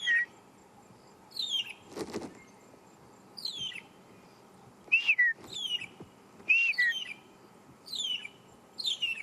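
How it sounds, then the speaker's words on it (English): Clear, gentle whistles from a magpie shrike in the African bush repeat every second or so, each a short rising-falling phrase, fairly close, over a quiet background with one soft thump. "A magpie or a long-tailed shrike."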